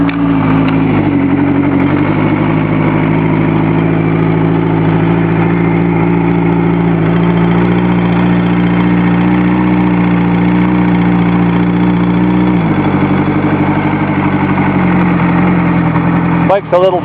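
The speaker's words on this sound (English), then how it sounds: "Give it some choke all the way. Fast idle. See if this thing will go." A Kawasaki GPZ Turbo motorcycle idles on choke right after a cold start, its steady, loud mid-pitched engine note running close by the whole time, dipping briefly near the start and again later before settling back to a fast idle.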